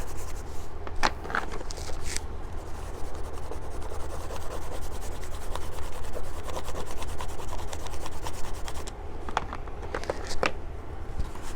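Crayon rubbed back and forth across a paper bag, a steady close papery scratching that runs throughout with a few sharper ticks near the start and end.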